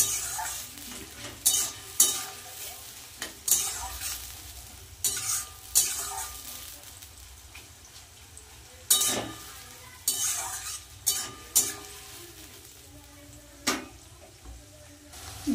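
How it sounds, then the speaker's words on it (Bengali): Onions lightly fried in a pan are stirred in sporadic scraping bursts over a soft, continuous sizzle, close up and with no talking. "পেঁয়াজটা কিন্তু আমি হালকা ভেজেছি, খুব বেশি ডিপ করে ভাজিনি"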